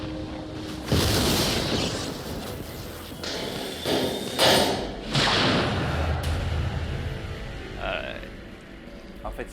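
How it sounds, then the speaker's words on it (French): Thunder striking in the horror game Man of Medan, a loud booming crash with rumbling bursts over several seconds, mixed with game ambience and some talk. "c'est le tonnerre"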